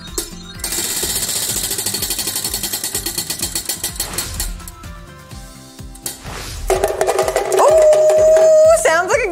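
A prize wheel spun in a game, its rapid rattling clicks racing at first and then slowing, followed by a loud musical flourish with a rising tone.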